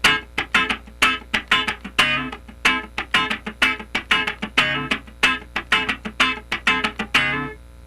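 Funk rhythm guitar in D with a straight feel, played as a tight one-bar pattern repeated over several bars: crisp, percussive strummed chords and muted scratches in a steady driving rhythm, close and clear with no talking.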